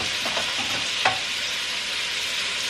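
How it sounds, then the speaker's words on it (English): Steady, loud sizzling of food frying in a hot pan, with a few light utensil scrapes and taps near the start. "Got to hear that sizzle."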